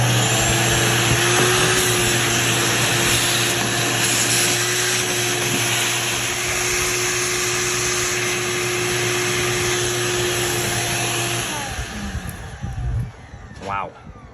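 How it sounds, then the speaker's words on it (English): A vacuum cleaner runs steadily while clearing dirt and debris from an old 60-year-old Shopmate circular saw during a rebuild, a constant close whine and drone that cuts off near the end, leaving scraping and handling noises. "Let's vacuum this thing up."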